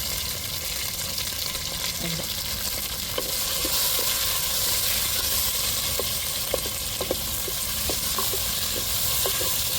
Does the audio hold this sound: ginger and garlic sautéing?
yes